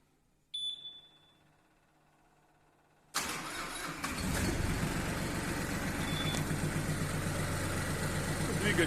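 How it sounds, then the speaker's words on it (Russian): A Mitsubishi MT241 4WD tractor's diesel engine cranks and catches after a brief warning beep, then settles into a loud, steady idle close by with no talk. "Сейчас мы заведем и все это продемонстрирую."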